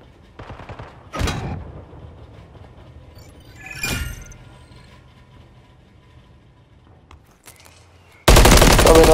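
Gunfire in a Call of Duty Search and Destroy match: two sharp bursts of shots about three seconds apart, a faint later shot, then a loud sustained blast of noise at the end.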